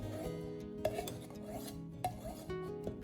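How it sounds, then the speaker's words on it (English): A steel knife blade drawn repeatedly along the unglazed rim of a ceramic bowl for sharpening, giving a steady close rasping scrape with a few sharper contact clicks and no talk. "begin sliding the knife blade along the edge of the bowl in one steady direction"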